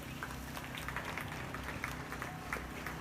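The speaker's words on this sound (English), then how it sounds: "Let's give them a round of applause." Applause from the crowd at a youth beef market show after a crossbred steer class, a fairly faint, even patter of many hands heard from a distance in a large arena.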